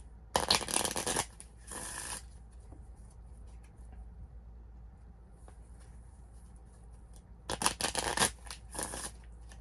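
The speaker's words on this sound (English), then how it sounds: "we'll give them a shuffle" Two bursts of riffle-shuffling a deck of playing cards, crisp fluttering rattles near the start and again near the end, with quiet handling sounds between.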